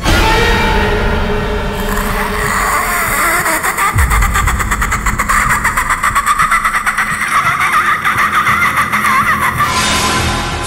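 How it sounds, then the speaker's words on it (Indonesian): Radio drama effect of a motorcycle skidding and crashing: a loud, continuous engine roar with harsh scraping noise that holds steady throughout, with a heavy low thump partway through. "aku tidak bisa mengontrol motorku hingga terjatuh"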